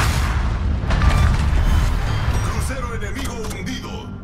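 A torpedo hit and broadside explosion in a naval combat game, a heavy sustained booming rumble that swells and slowly fades, with someone talking over it.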